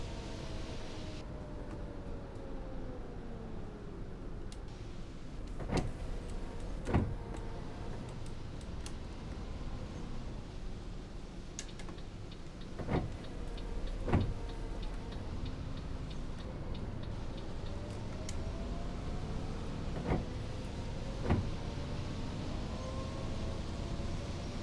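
Simulated bus with a ZF automatic gearbox cruising at speed on Route 100 in OMSI 2, Euro 4 model: a faint gearbox whine sweeping up and down in pitch under steady road noise, with occasional soft ticks and clicks.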